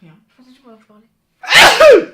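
A single loud, sharp sneeze bursts out close up right after a few quiet spoken words, ending in a brief falling vocal tail.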